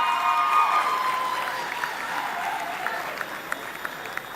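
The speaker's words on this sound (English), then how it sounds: "Please clap for her as she comes to receive her prize." Steady applause from a large audience at a university graduation congregation fills the hall as an award winner walks up, with a bright, dense clatter of clapping that gradually thins toward the end.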